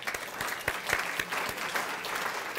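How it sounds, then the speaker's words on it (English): An audience at an opioid overdose forum applauds the panelists with steady, dense clapping that fills the room at a constant level from start to finish. "I want to applaud our panelists"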